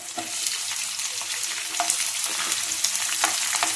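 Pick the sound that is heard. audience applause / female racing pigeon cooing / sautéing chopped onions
sautéing chopped onions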